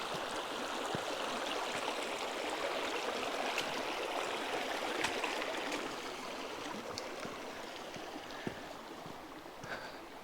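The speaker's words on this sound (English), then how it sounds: "Coming down to Elbert Creek here," Elbert Creek flows through a damp, lush forest with a constant broadband rush of moving water that holds an even level throughout, with small splashes and trickles on top and no voices.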